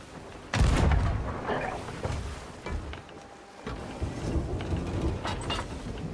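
A ship's cannon shot in Sea of Thieves, with a heavy low boom near the start over sea and creaking-ship ambience, followed by ongoing rumbling and clatter.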